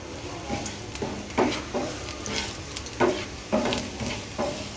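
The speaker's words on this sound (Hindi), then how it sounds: "अब इसमें हम लहसुन जो 3-4 क्लोव्स रखे थे क्रश करके वो डाल देंगे।" Crushed garlic cloves sizzling in a hot pan after chicken is removed for chow mein, with a steady frying hiss and several sharp stirring scrapes recurring at irregular intervals, close and moderately loud.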